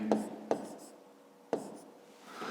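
Pen or chalk marks on paper while a Grade 5 maths exercise is worked, a few sharp scratchy strokes with short quiet gaps between them.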